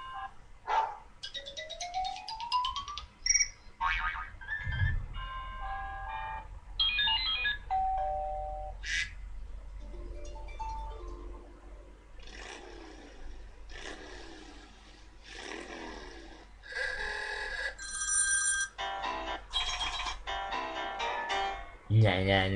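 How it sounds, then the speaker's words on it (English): A rapid series of different electronic ringtones played on an iPad 2, melodic beeps, chimes and tone sequences following one another with short gaps, fairly loud and close, with a voice briefly speaking between some of them. "Now I'll come up with a whole bunch of ringtones."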